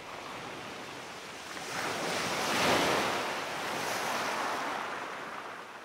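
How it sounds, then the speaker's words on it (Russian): Ocean surf rolls in at night, a steady wash of breaking waves with wind noise that swells to a louder crest midway and then eases back, with no voices heard. "Ночной прибой."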